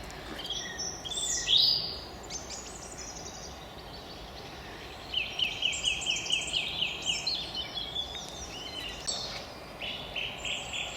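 A song thrush sings brightly and variously outdoors beside a brook, repeating a phrase several times in quick succession before moving on to new notes.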